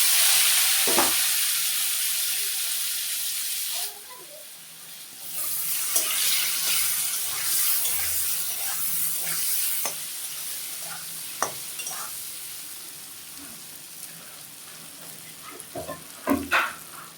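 Pieces of taro fry in hot oil in a pan, giving a steady sizzle with scattered scraping knocks as they are stirred. The sizzle drops briefly near the start and then continues close and moderately loud.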